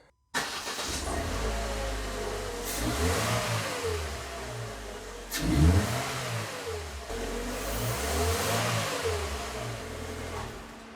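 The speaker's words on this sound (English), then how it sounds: "So I'm going to go ahead and start the car." A Mercedes W169 A150 engine cranks and starts after throttle body cleaning, then settles into a rhythm of repeated revs rising and falling, with one sharp louder rev midway.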